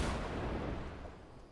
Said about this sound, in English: I hear rockets.